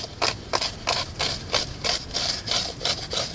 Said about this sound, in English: We can scrape the inside of that thing out with this flake real good.